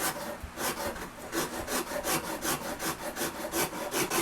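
A Shinto rasp works guitar wood in quick, even back-and-forth strokes, each a scratchy rasping burst, close and alone in a fast steady rhythm.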